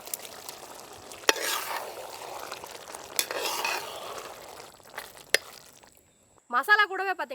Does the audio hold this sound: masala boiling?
yes